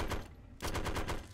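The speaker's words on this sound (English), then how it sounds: "Oh, it was an M60 machine gun I heard." An M60 machine gun fires in Fallout 3 in two rapid bursts, the first short and the second longer, each made of distinct rattling shots close up.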